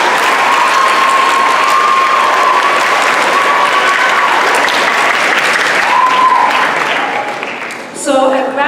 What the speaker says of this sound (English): please give a huge round of applause to your parents, your teachers, and the leaders and staff of PUC Community Charter Middle School